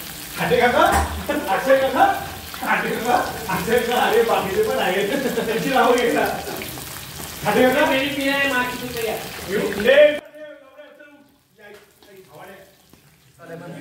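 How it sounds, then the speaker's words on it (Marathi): Paneer frying in a pan outdoors on a farmhouse trip, a steady close sizzle running under continuous talking that drops off sharply near the end. "पहिले पनीर फ्राय करून घ्यायचं."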